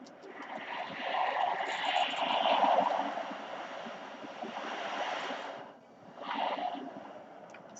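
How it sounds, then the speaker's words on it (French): Ocean waves washing in and out in a steady, swelling roar that rises and falls, moderately distant and alone with no voices. "On entend l'océan."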